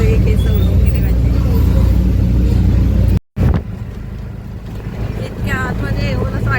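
Auto rickshaw ride toward a temple in Virar, a steady engine drone and road rumble with wind buffeting throughout, cut by a brief dropout midway, then continuing with talk over the motor.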